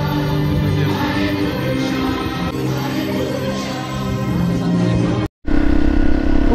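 A motorcycle rides out of a temple parking lot onto the highway, its engine and wind noise a steady, loud drone that cuts out briefly near the end before resuming.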